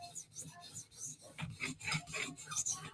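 A knife edge drawn across a 400-grit CBN sharpening stone, giving close, quiet rasping strokes in an uneven rhythm of roughly eight passes, each a short gritty scrape with brief pauses between.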